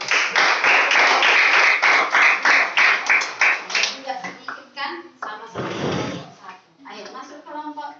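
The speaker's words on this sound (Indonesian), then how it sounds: "Tepuk tangan." Children in a classroom clapping hands in a quick patterned rhythm of distinct claps for about four seconds, then breaking into scattered children's voices and chatter.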